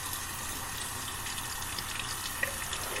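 Hot water runs from a tap, filling a shaving bowl for lathering: a steady, soft hiss and gush of flowing water, constant and fairly quiet, with no voices.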